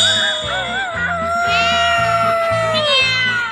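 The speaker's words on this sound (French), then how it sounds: "le chat à miauler" A cat meows in drawn-out, wavering cries over a repeating musical backing, loud and close, in a French children's audio story of The Town Musicians of Bremen.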